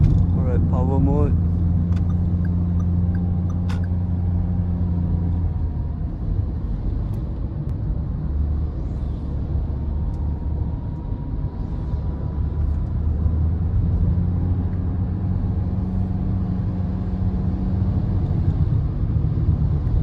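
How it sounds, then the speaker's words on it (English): A 2023 Perodua Alza H drives in power mode, its engine and road rumble droning steadily and loudly from inside the cabin, with pitch rising and falling through gear changes. "We're going to see how this car performs. Alright, power mode."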